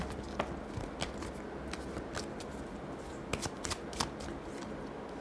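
Tarot cards are shuffled close by in quick, soft riffling bursts with crisp flicks and snaps, quiet overall and without talk.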